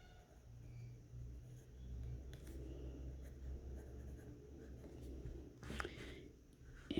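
A Pilot Kakuno clear demonstrator fountain pen writing on paper, a faint soft scratching under a low background rumble, ending in a couple of louder taps and scrapes near the end.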